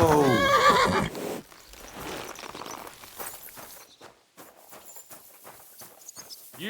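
A horse in Kingdom Come: Deliverance 2 lets out a loud, close neigh, followed by softer hoof clops and shuffling footsteps moving about.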